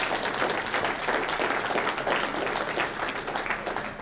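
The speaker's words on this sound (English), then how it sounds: "So round of applause for Dream for putting this all together." Audience applause at The 21 Convention, a dense, steady roar of many hands clapping at once, sustained at full volume throughout without pause.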